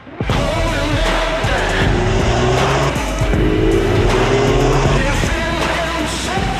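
A new MINI 3-door or 5-door hatch being driven, a loud close engine drone with rising revs and faint tire noise, steady throughout and without voices.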